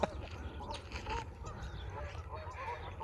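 Geese honk faintly overhead, a scattering of distant calls drifting over low outdoor rumble and wind.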